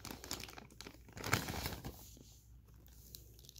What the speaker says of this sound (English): Let me open the packaging